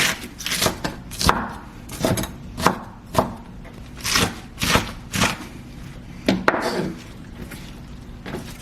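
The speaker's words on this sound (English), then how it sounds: "So you basically just chop everything together as fine as you prefer." Salad vegetables and meat chopped on a board, about a dozen sharp knife thuds landing in an uneven rhythm with short pauses between them, close and clear, with no speech.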